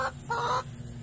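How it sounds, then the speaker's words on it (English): Rhode Island Red hen clucking on a porch, two short close clucks in quick succession followed by a brief quiet tail. "This is my porch chicken right here."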